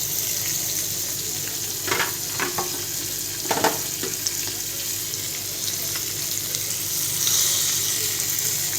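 Masala-stuffed fish fries on a low flame in a pan, a steady close sizzle with a few brief stirring or shifting sounds, no talking.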